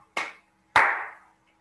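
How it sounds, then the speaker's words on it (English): Two sharp hand claps from children in a playgroup counting lesson, a short one followed by a louder, ringing one about half a second later, in a quiet room. "This way we have to do clapping and snapping alternately."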